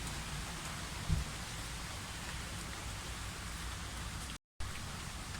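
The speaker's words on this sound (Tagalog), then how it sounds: "maulan eh. Ano? Panay ulan." Steady heavy rain pours down with a constant broadband hiss, no voices, one brief bump near the start and a short dropout near the end.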